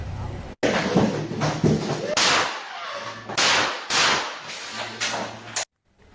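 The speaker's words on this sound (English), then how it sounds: "We hear the gunshots there." Several sharp, loud bangs ring out in an irregular series, each a sudden crack followed by a short decay, with muffled voices between.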